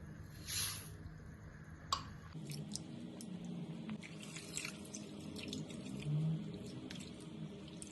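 Chana dal and moong dal, a bowl of each, are rinsed in a kitchen sink under a running tap, with splashing water, drips and soft squishing as the lentils are rubbed clean.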